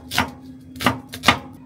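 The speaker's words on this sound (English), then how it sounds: "I'm gonna chop up the onions." Three crisp knife strikes chopping an onion on a cutting board, evenly spaced and close up, with no talking.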